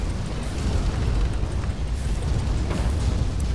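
An airship in Guns of Icarus Online bursts apart in a loud, rumbling explosion, a dense low roar that holds steady for several seconds with no voices over it.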